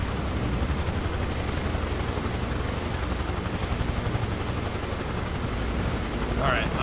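A helicopter in Microsoft Flight Simulator drones with a steady, dense rotor and turbine roar that holds evenly throughout, loud and continuous with no pauses.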